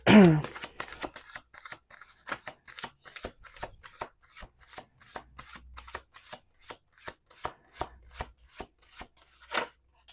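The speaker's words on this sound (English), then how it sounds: "We're going to do one more shuffle" Tarot cards are shuffled by hand: a quick riffle at the start, then a long series of dry, evenly spaced card slaps and flicks, close and fairly quiet.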